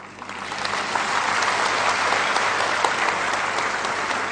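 Sustained applause from a seated audience at a Hindi talk, steady and dense throughout, many hands clapping together at a loud, even level with no voices on top.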